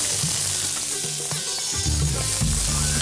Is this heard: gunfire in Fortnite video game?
no